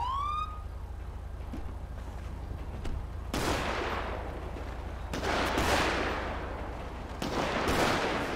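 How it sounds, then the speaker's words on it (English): Gunfire in GTA V's LSPDFR police mod, heard as three loud bursts of shots, each with a long echoing tail, over a steady low engine drone and a police siren wail at the start. "Stop shooting your weapon."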